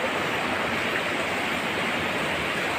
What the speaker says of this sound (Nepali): यहाँबाट देखिने खोला चाहिँ यो हो, ब्रिजबाट देखिने खोला चाहिँ